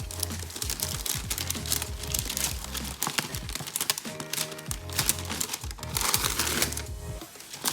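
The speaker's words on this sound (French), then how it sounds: "On se retrouve pour ouvrir la Dégustabox du mois de juillet" A July Degustabox food subscription box being opened, its packaging crinkling and rustling almost continuously, close and fairly loud, with busy crackly handling throughout.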